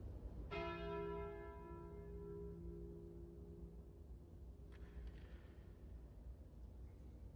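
The Calling Bell relic in Slay the Spire rings a single deep church-like bell strike that decays slowly over several seconds, with a faint shimmer later and a low background hum.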